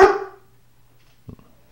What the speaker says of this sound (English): That's my dog, Louis Hush.